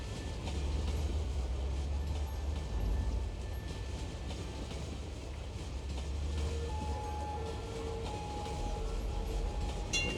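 Streetcars running in the Cities: Skylines city-building game, a steady rolling rail rumble with faint clickety-clack heard alone throughout, a thin tonal squeal rising briefly near the end.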